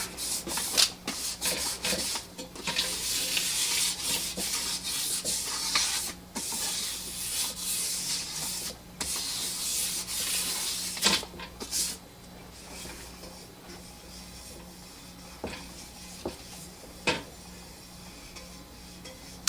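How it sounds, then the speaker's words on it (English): Dinged tops of a Harbor Freight paint pressure tank are buffed flat where the gasket seats, producing a harsh rhythmic abrasive rubbing in bursts that fades to scattered light scrapes and taps near the end. "kind of buff up these tops where they were kind of dinged up a little bit"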